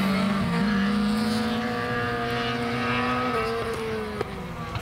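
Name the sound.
Lada rally car engine popping when lifting off throttle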